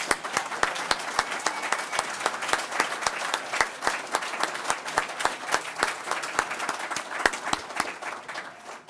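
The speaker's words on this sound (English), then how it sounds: "Let's give it an applause." An audience at a Black Heritage celebration claps for an award named in someone's honour. The applause is loud and sustained, made of many sharp, separate hand claps at an uneven rhythm, and it lasts the whole time.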